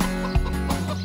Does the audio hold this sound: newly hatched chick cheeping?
yes